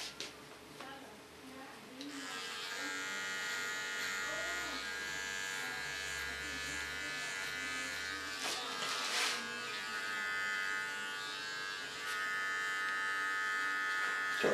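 Electric hair clipper buzzing steadily while shaving the sides of a woman's head during a switch from platinum blonde to black hair colour, a continuous near drone with brief changes in pitch, alone without talk.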